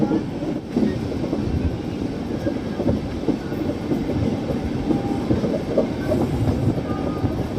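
The Amarnath Express passes through Domingarh station near Gorakhpur: a steady, loud rumble of coaches with continuous clickety-clack from the wheels over rail joints, sustained close by throughout.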